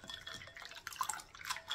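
Cooked Japanese soba noodles washed by hand in a bowl of water, giving soft splashing, sloshing and dripping sounds at close range, quiet and irregular, with no talking.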